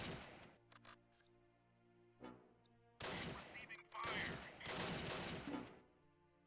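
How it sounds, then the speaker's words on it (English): Suppressive gunfire in the Close Combat video game, with scattered sharp shots early and then dense, overlapping bursts of rapid fire, fairly quiet overall. "It's primarily suppressive fire going out right now."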